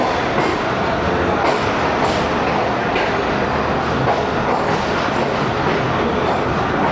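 The Tezgam passenger train runs between Rawalpindi and Lahore, heard from inside an old AC sleeper coach as a loud, steady roar and rumble of wheels on rail with faint rhythmic clatter throughout.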